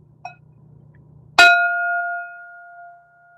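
A single meditation bell is struck once, loud and close, its clear ringing tone sustaining and slowly fading after a low hum.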